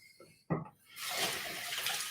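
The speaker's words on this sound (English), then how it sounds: "So get my water here going." Warm water starts running from a kitchen tap to make bread dough. After a short knock, the close, steady rush fills the rest of the clip.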